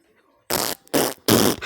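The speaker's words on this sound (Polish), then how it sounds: "Jak mocno możesz pierdzieć!" Three loud, buzzing fart sounds in quick succession from a cartoon, each about a quarter second long and close up.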